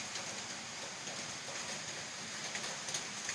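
Steady rain patters down in a continuous, even hiss, fairly soft and unbroken, with no voices.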